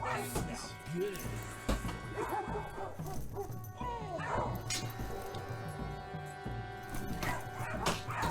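Dogs bark, yip and whimper repeatedly as a sound effect during a tabletop game session, several sharp bursts scattered through steady background noise without clear talk.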